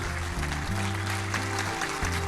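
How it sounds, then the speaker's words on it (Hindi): Steady crowd applause at an event, greeting the chief guest, Union Minister Nitin Gadkari, with sustained musical tones underneath the clapping throughout. "एक बार जोरदार तालियों से स्वागत करेंगे हमारे अतिथि विशेष।"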